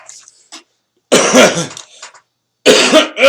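Coughing in two strong bursts, each a cluster of harsh coughs close to the mic, separated by a brief quiet gap, with a small sound near the start.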